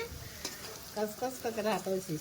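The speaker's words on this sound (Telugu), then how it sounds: "ఇప్పుడు కొద్దిగా మెత్తపడిందంట ఉల్లిపాయ, ఇంకొద్దిగా ఫ్రై అవ్వాలి" Onions fry in a pan while a spoon stirs them, giving a soft sizzle with scraping and clinking strokes that grow busier and louder in the second half.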